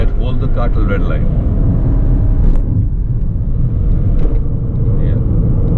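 Skoda Octavia RS 245 with a DQ381 DSG gearbox on a tuned map, accelerating hard toward the red line: a loud, steady engine rumble that holds throughout, with road noise and no clear pauses.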